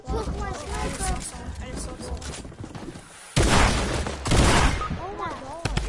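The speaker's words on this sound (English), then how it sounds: "Someone's shooting at me for real!" Video game gunfire in a shooter match, loud bursts of rapid shots cutting in over excited player chatter, with a heavier sustained volley near the end.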